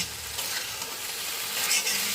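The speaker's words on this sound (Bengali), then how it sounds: "আরও মিনিট পাঁচেক আমি ভেজে নিলাম গ্যাসটা হাই টু মিডিয়ামে রেখে" Okra frying over high to medium gas in a pan, a brief steady hiss of sizzling oil with soft stirring scrapes, close and continuous.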